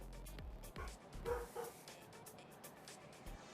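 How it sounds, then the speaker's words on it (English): Dogs bark in the video game E.X. Troopers, a run of several short, moderately loud yips and barks in the first seconds that fade to quieter yelps, over a steady game background. "Why are dogs barking?"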